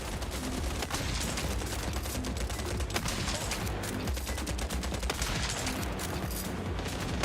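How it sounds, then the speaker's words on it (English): Continuous gunfire and explosions in the war video game WWH, dense overlapping shots and bursts rattling steadily at moderate loudness with scattered sharper cracks. "when you got fire going off everywhere and bombs going off everywhere"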